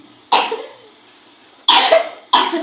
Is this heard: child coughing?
yes